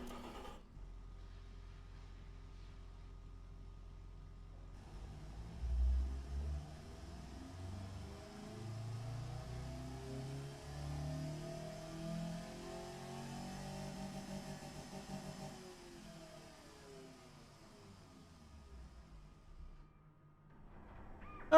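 A simulated 1996 Edison Star car engine with a 3-way catalytic converter and single reverse flow muffler starts up after a brief crank and settles into a steady idle, with a few revs rising and falling, fairly quiet, no talking.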